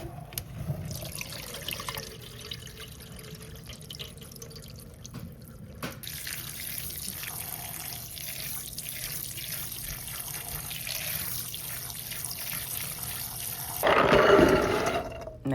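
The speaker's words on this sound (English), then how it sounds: "You want to rinse them very well, guys." Chickpeas are rinsed under a running kitchen tap, a steady close rush of water filling a bowl in the sink, with a louder splashing surge near the end.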